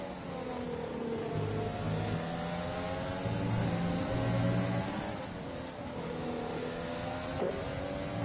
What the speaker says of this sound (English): nger of losing another spot to Ben Fernandez as we look at the back of Alejandro's car